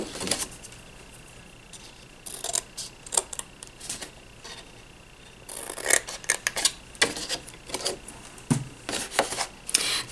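Scissors cut wedges into the tabs of a folded paper gift card box, heard as a series of short, close, crisp snips and paper rustles in uneven bursts with brief pauses between.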